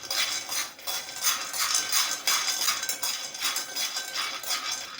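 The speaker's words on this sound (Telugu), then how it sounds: "పల్లీలను కూడా ఇలా లో ఫ్లేమ్లోనే చాలాసేపు వేయించుకోవాలి." Peanuts tumbling and stirred in a metal pan over a low flame, a steady close rattling and scraping with repeated clinks in rolling waves, no voices.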